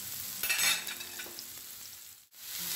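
Onions fry in oil with a steady, quiet sizzle while a utensil stirs them, scraping briefly in a few soft strokes.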